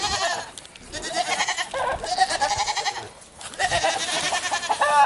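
Several hungry goats bleat loudly and insistently at a hay bale in a barn, overlapping cries filling the clip with barely a pause between them.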